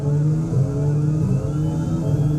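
A McLaren Formula 1 car in the F1 2021 racing game at the Portugal Grand Prix, Algarve circuit, its engine a loud continuous high whine held close throughout a short burst, with no talking.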